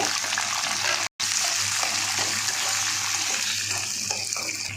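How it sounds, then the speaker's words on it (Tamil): Curry leaves drop into hot oil already holding mustard seeds, urad dal and chana dal for a cluster bean poriyal, giving a steady, dense sizzling hiss that cuts out for a split second and then carries on unbroken. "கருவேப்பிலை சேர்த்துக்கோங்க."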